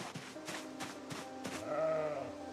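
Sheep bleat in a survival video game, one drawn-out wavering bleat near the end over a run of soft rhythmic footstep thumps and low background ambience.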